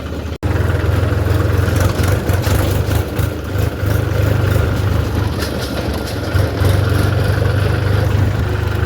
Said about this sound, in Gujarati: ફટાફટ ટ્રેક્ટર ચાલુ છે